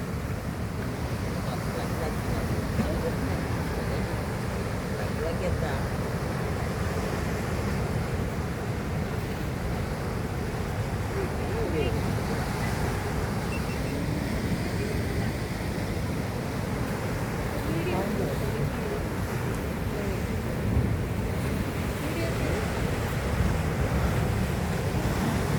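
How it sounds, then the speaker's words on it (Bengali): Rough sea water surges into a creek at Kapu, with a continuous heavy roar of turbulent waves churning and washing in, mixed with steady wind buffeting the microphone throughout. "খাড়ির ভিতরে সমুদ্রের জল ঢুকছে।"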